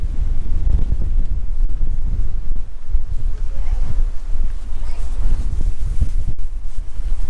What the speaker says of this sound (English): Very windy up here at the moment.